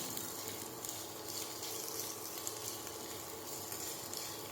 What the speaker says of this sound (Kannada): ಅದನ್ನು ಕಾದಿರೋ ಎಣ್ಣೆಗೆ ಹಾಕಬೇಕು ಮತ್ತು ಚೆನ್ನಾಗಿ ಫ್ರೈ ಮಾಡಬೇಕು